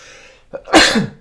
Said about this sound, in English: Sorry, my sneeze.